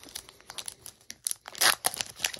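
A Celebrations trading card pack is ripped open by hand in a quick series of sharp, close crinkles and tears of foil wrapper, loudest in a burst toward the end.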